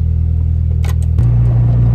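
A warmed-up car engine, a stock V1-type motor with 340,000 km on it, idles in a steady low drone up close, then the pitch steps up slightly about midway and holds there.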